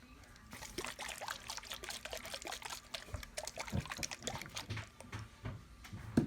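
Homemade hand sanitizer liquid is poured from one container into a bottle, giving a steady trickling, splashing pour that runs through most of the span, close and moderately loud, with small clinks and drips near the end.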